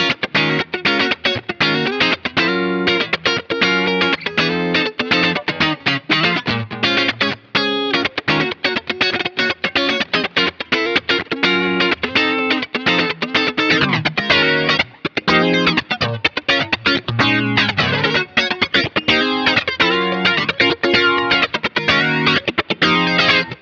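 Electric guitar through a Boss GT-1000 set to an 80s funk preset with chorus, playing busy rhythmic strums and fat chords, wide and shimmering, loud and continuous with no talking.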